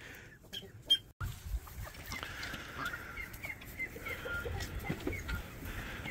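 Quiet clucking from a few hens nearby, scattered soft calls over a faint background with a couple of sharp knocks near the start.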